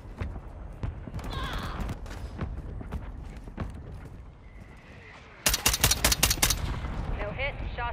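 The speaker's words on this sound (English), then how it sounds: "No hit, shots missed." SR-25 semi-automatic rifle fired outdoors, a rapid string of sharp, loud cracks clustered together after scattered earlier reports, with faint voices and wind around.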